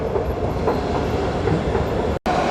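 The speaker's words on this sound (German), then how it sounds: "Die RB14, die fährt gerade hier weg" An RB14 regional train pulls away from a Berlin station platform with a steady, loud rumble of wheels and a faint clickety-clack, and the noise breaks off suddenly near the end.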